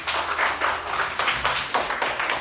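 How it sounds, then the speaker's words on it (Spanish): A school class claps for Nora during a tangram challenge game, a brief burst of uneven, pulsing clapping from a small group of children nearby. "¡Aplauso para Nora!"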